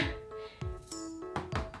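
Orbeez water beads bouncing and dropping onto a surface, several soft close thunks in uneven succession, each with a short rebound, alongside brief tonal voice sounds.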